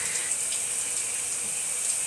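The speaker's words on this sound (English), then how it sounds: "Nothing but sounds of water." Shower water runs steadily with a dense, even hiss that doesn't change for the whole moment. There is no talking.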